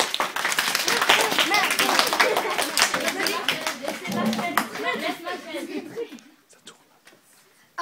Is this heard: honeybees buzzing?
no